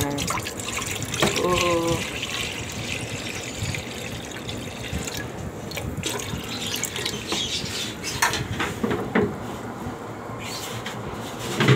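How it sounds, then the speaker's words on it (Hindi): Water runs steadily from a tap into a cooking pot holding bitter gourd, a continuous splashing pour with a voice speaking briefly over it. "मैं पानी डाल दूँगी पतीले में"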